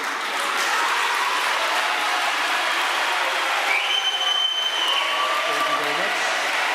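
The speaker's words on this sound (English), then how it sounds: "A round of applause for the UDM." Audience at a national elections 2024 forum applauding the UDM, a loud, dense, continuous clapping with faint tonal whines rising over it midway.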